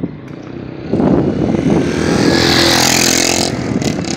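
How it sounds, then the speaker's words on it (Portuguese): A motorcycle rides along the road beside a church in Ibitiara, heading toward Caetité; its engine drone swells loudly after the first second and holds steady and close for several seconds before easing slightly, with no talking. "tá vendo o sentido onde vai essa moto aí?"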